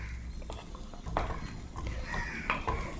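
A ladle stirs country chicken curry in a village-style pot, giving faint, irregular scraping and clinking strokes over a low steady background hiss.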